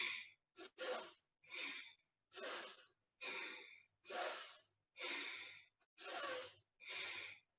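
Deep, forceful breaths during a guided breathing exercise come in a steady rhythm of about nine separate bursts, each a close, airy rush with short silent gaps between, and no speech.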